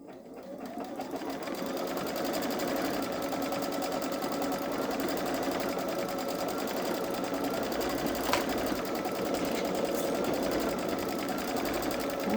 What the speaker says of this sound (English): so it's doing the placement line for the lilies right now